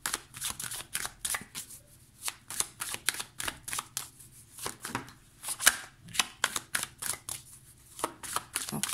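Tarot cards are shuffled in steady, crisp riffles and slaps that continue rhythmically throughout, close and clear under faint background noise.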